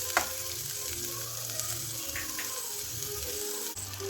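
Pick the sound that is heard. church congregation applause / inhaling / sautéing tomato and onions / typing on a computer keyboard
sautéing tomato and onions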